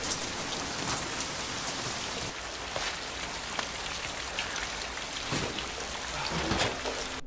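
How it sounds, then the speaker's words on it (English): Steady, heavy rain pours down continuously, pattering on surfaces with a dense hiss and no voices. "It's been raining forever."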